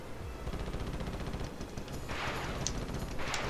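Small UFOs firing at the player in Ratchet and Clank, rapid rhythmic bursts of game gunfire continuing throughout, with a couple of brighter zapping shots near the end.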